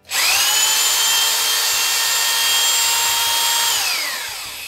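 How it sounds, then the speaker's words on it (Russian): A rotary hammer drill fitted with a drill bit through an SDS chuck adapter spins up sharply and runs with a steady high-pitched whine for about four seconds, loud and close, then winds down. "сейчас я включу его, посмотреть, как неточно на перфораторе центруется сверло"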